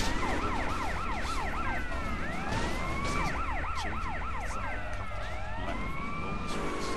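A wailing police car siren in the video game GTA Vice City sweeps up and down repeatedly, loud and continuous, with layered siren tones overlapping throughout.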